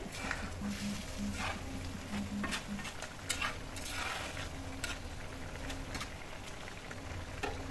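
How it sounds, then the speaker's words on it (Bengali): Small mixed river fish cook in a clay pan, giving a soft steady sizzle with scraping stirs and light taps, close and fairly quiet. "এদিকে ছোটো মাছটা অনেকটা হয়ে আসছে, একটু লেড়ে দিলাম"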